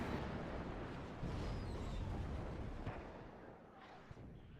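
Artillery fire in the WARNO real-time strategy war game, a dense continuous rumble of distant booms and bursts blending into a steady roar that eases slightly toward the end.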